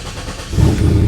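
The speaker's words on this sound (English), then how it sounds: "At this point, we should be able to start it" A 1940 Chevy Coupe engine cranks and catches, the low rumble swelling louder and steadier about halfway through as it settles into running, close and alone.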